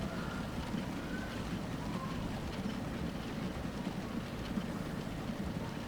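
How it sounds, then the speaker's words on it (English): A passenger train rolls past in the Transport Fever 2 video game, a steady low rumble with faint clatter running evenly throughout, no talk over it. "There's one of our trains in action going on by."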